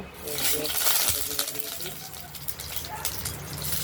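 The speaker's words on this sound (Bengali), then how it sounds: "কালো জিরে এবং কাঁচা লঙ্কা ফোড়ন দিয়ে দিয়েছি" Black cumin seeds and green chillies tempering in hot oil in a kadai give a steady, dense sizzle and crackle with brief pops, loud and continuous throughout.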